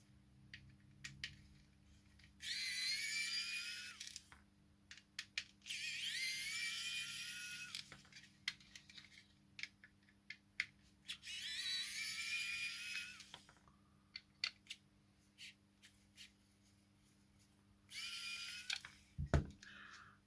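A T8 Torx screwdriver unscrewing four screws on a Braun Series 9 shaver, with several bursts of thin high-pitched whirring and scraping, a few seconds each, between small clicks and handling taps at close range.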